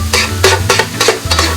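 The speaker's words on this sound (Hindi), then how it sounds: "1 टेबल स्पून जो मैंने बटर रखा था वो मैं इसके ऊपर डाल दूंगी। मिक्स करूंगी इसे।" Butter is stirred into minced keema on a hot iron tawa, with rhythmic scraping strokes of a spatula about every quarter second over a low steady sizzle, loud and close, without speech.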